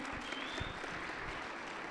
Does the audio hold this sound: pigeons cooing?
no